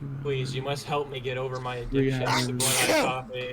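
A single loud sneeze bursts out near the end, right after a person speaking.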